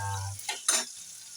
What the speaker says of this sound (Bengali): এখানে আছে ট্যাংরা মাছ ভাজি করে তুলছে